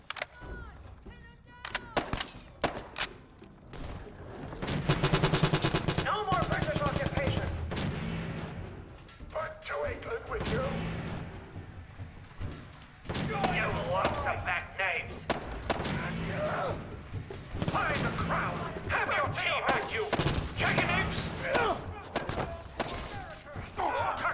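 Gunfire in the Fallout 4 video game, repeated sharp shots and thumps scattered through the stretch, mixed with game sounds and someone talking over it.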